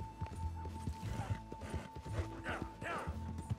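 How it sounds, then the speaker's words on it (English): Horse hooves clip-clopping in the video game Red Dead Redemption 2, a rapid, uneven run of hoofbeats under a steady game tone, with a soft snort or whinny near the end. "Why is there just magically a horse there with the saddle?"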